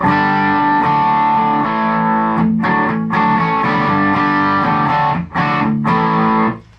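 Electric guitar played through the crunch channel of an amp, with gritty overdriven chords ringing out in sustained strums and a couple of brief choked pauses, loud and alone.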